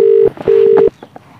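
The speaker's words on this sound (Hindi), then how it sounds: "फोन लगाओ तनी" Two steady electronic telephone dialing tones sound in quick succession, each about half a second long, followed by faint background noise.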